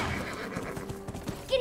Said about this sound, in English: he sneaks up on her horse